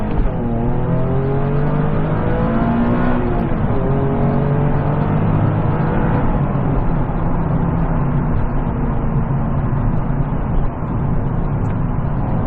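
A 2009 Nissan 370Z engine revs hard from a standstill and climbs through the gears with rising pitch, loud and continuous, with a brief dip at each shift.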